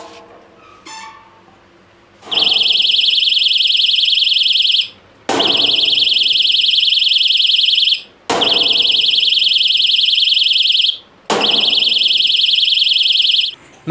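A knock-activated smart doorbell buzzer on a wooden gate blares in four long, loud, steady electronic tones separated by short gaps, after a couple of light knocks.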